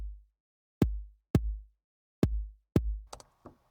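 Four deep, punchy electronic kick drum hits with booming low tails, spaced unevenly, followed by a couple of short clicky percussive hits.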